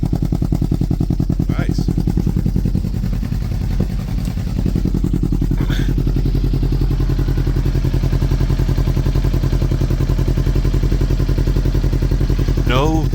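A rebuilt 2024 Kawasaki Ninja 500 idles close by with a steady, even pulse and mechanical clatter, while someone speaks briefly over it.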